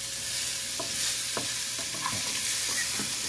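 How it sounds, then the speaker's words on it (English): Food sizzles steadily in a hot pan, a constant crackling hiss with intermittent scraping taps of a utensil stirring it, close by. "You hear that sizzle sizzle?"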